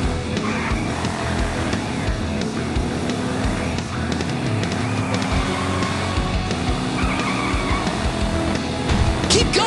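A race car in a Hot Wheels video game roars along with continuous engine drone, tire squeals and scattered game effects layered in a busy, steady mix.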